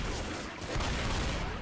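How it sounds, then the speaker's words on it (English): Dense, rapid gunfire rings out in the zombie shooter Left 4 Dead during a horde fight, a loud continuous burst of shotgun and weapon blasts filling the whole moment. "I missed every shot on my shotgun right there"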